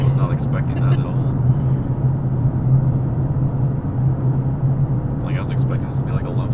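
Lexus LC 500 engine and exhaust produce a loud, steady low droning roar throughout, with brief faint voice-like bursts near the start and end.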